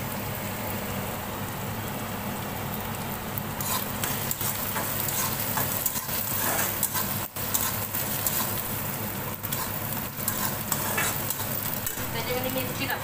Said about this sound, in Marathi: असं चांगलं परतून घ्यायचं मला.